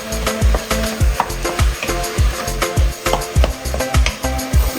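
Onion, garlic, tomato paste and dry ingredients for baked ziti being mashed and mixed together in a bowl: a steady run of close, rhythmic thuds and scraping knocks, about two per second, with no talking.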